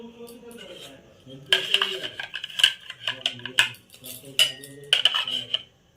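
Ceramic plates bought at the Tarakeswar Shivratri fair, about 20 taka apiece, clink and knock together as they are handled. Sharp, close chinks come in irregular bursts over a soft voice in the background.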